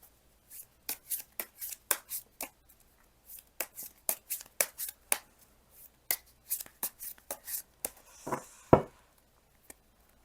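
Tarot cards being shuffled and drawn by hand: a string of crisp, close card snaps and flicks in irregular bursts, then a brief riffling swish near the end, with no talking.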